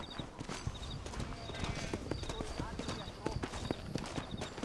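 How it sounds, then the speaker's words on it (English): Horse hooves clip-clop in a steady, rapid rhythm during Red Dead Redemption gameplay, the light hoofbeats riding over faint game ambience at low volume. "There's my horse."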